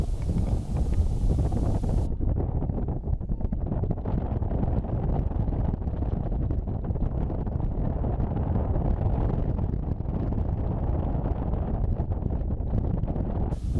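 Steady roar of wind buffeting the microphone during a paragliding flight into the wind near a launch site, loud and continuous throughout with no talk.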